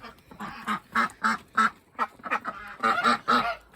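Geese and ducks, including a gander, quack and honk in a rapid, irregular series of loud, close calls, with no talking.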